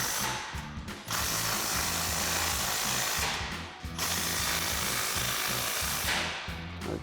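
Exhaust clamps on a RAM 1500 aluminized dual exhaust system tightened with a ratchet, three bursts of rapid close clicking separated by brief pauses, loud and alone without voices.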